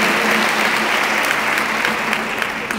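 An audience at a community gathering claps together in dense, steady applause that stays loud and even from start to finish.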